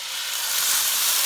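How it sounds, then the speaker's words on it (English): Ingredients sizzling in a cast iron skillet of extra virgin olive oil, a steady bright hiss that swells slightly and holds without speech. "I'm going to put this in my, of course, my one and only famed cast iron skillet with extra virgin olive oil"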